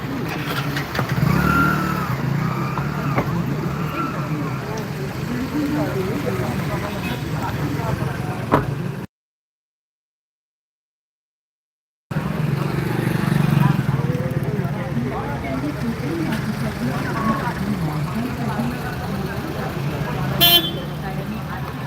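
Continuous traffic noise with car and bus engines, occasional horn toots and nearby voices, recorded outdoors at a dairy, agriculture and livestock exhibition in Chiplun. The sound cuts out briefly partway through.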